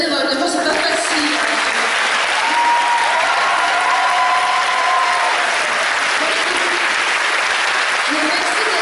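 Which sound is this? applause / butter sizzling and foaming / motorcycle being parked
applause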